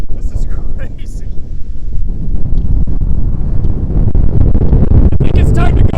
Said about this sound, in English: You guys see the wind on that thing? This is crazy.